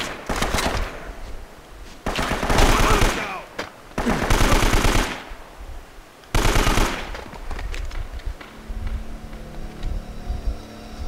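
Bursts of rapid automatic gunfire from the video game Uncharted: Drake's Fortune, several loud volleys separated by short pauses, with a few single shots trailing off at the end.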